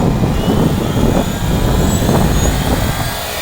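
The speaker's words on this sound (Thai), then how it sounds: "รอให้ใบพัดหมุนสุดเสียงนะครับ" An RC AH-1 Cobra model helicopter's rotor spins up, giving a loud, steady whirring drone that holds nearly constant, with no voices over it.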